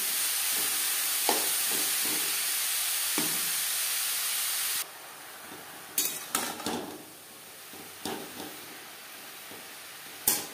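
Green papaya for a vegetarian papaya ghonto curry, with small bay leaves, cooks in a pan: a steady hiss fades midway, then scattered scrapes and clinks of a spoon stirring the vegetables, fairly faint and with no voices.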